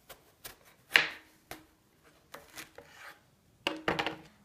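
A kitchen knife cutting aubergine into strips on a chopping board, giving scattered soft cuts and scrapes with a few sharper taps, close and quiet with pauses between.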